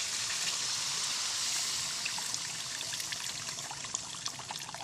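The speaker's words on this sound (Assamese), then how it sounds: "আমাৰ মছলাখিনি ভজা হৈ গৈছে ধুনীয়া হৈছে তেলটো এৰি দিছে এতিয়া ইয়াতে জোখৰ মতে পানী অলপ দি দিওঁ" Water poured into fried spice masala in a pan for an Assamese fish gravy with tomato and mustard: a close, steady hissing trickle and splash that eases slightly toward the end, with no voices.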